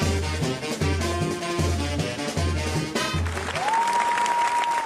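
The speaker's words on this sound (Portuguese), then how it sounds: "Foi bastante aplaudido após a exibição." Audience at a Cannes Film Festival screening applauds a Brazilian film, dense sustained clapping under a rhythmic repeating music beat, then a rising tone enters near the end.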